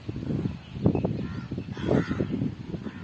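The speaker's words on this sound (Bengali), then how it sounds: "এই কাকগুলো ফিরছে।" Crows caw as they return, a few harsh, rasping calls in short bursts, moderately distant and fairly quiet against a soft outdoor background.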